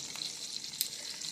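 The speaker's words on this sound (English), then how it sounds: "So I'm going to let these finish frying up." Meatballs of ground beef fry in a pan, giving a faint, steady hiss of sizzling oil with small crackles and one brief louder pop, no voices present.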